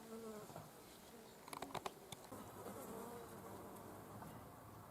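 Insects buzzing around flowers in a bee-friendly garden in July, with many species present; a steady outdoor hum runs throughout, with a few brief sharper ticks and buzzes near the middle.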